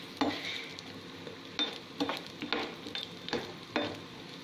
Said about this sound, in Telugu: ఘీ హీట్ ఎక్కిన తర్వాత మనం పక్కన పెట్టుకున్న రైజన్స్ అండ్ కాజు నేతిలో వేయించుకోండి